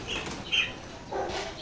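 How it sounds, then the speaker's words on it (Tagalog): Lovebirds inside an aviary flutter their wings in a couple of quick, soft flapping bursts close by, with faint chirps around them. "Dami na lang ibon dito, ha."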